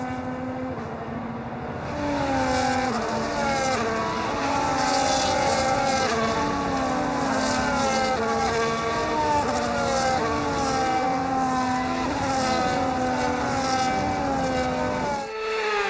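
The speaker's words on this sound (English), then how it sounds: "The formation lap gets underway then" F1 race cars on a dry-weather formation lap in the F1 25 game, engines droning steadily with repeated rising and falling gear-shift whines as several cars pass, loud and continuous before cutting off abruptly near the end.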